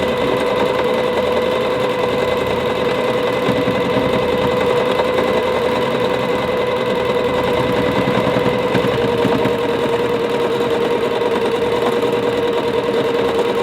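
A sewing machine runs steadily for free motion quilting on a small spring-themed mini quilt, its needle whirring in a continuous, close, even hum with no pauses.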